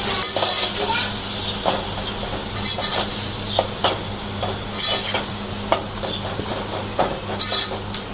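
A spice masala of turmeric and other spices roasts in a pan, with soft frying sizzle throughout and a spoon scraping and clinking against the metal in irregular, close bursts.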